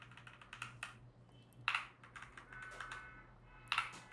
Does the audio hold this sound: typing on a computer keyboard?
yes